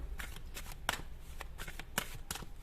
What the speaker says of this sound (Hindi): मैं तब तक शफल कर रही हूँ।